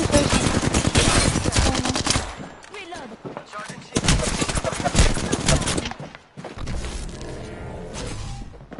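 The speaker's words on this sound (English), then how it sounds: "The guy's just shooting." Bursts of automatic gunfire ring out in the Apex Legends video game, loud close volleys separated by short lulls, with voices talking between the shots.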